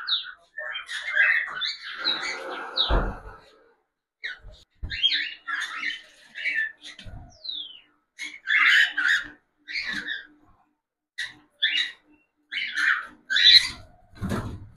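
Pet cockatiels calling from their cage, a busy run of sharp chirps and squawks with brief pauses, close and fairly loud, with no talking.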